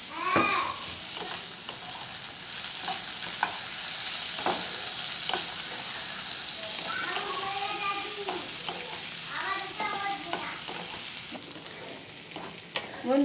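Washed cashews sizzle and crackle in hot oil in a pan while being prepared for fried rice, with steady frying noise, a few stirring scrapes and faint voices in the background.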